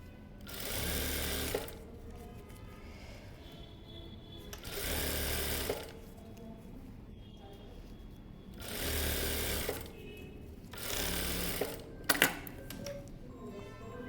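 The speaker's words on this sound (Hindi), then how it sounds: "इसको हम दोबारा से ऐसे स्टिच करेंगे" A sewing machine stitching a blouse, running in four short bursts of rapid mechanical whirring with quiet pauses and a few clicks between them, heard close and alone.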